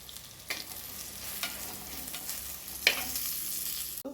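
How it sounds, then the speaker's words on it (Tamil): Ground coriander being stirred and fried in oil for a bitter gourd tamarind curry, a quiet steady sizzle with a few distinct spoon scrapes against the pan and a sharp knock at the end. "கொஞ்சம் மல்லித்தூள் போட்டுக்கலாம் இது நம்ம எண்ணெயில் பிரட்டி விட்டுருவோம்"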